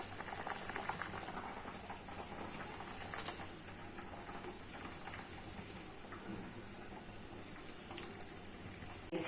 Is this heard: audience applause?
no